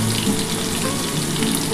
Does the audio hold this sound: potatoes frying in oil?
yes